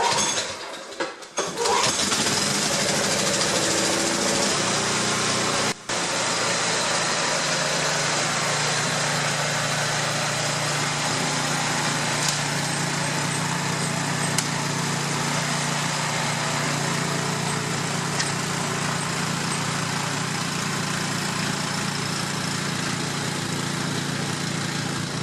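An old Craftsman snowblower, fitted with a new auger drive belt, runs steadily and loudly for about twenty-five seconds after a brief start, a constant engine roar with no talking.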